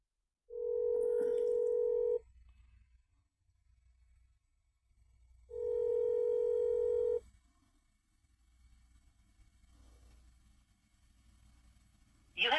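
A phone call rings out with two long ringback tones a few seconds apart over faint background hiss, and a voice answers briefly right at the end.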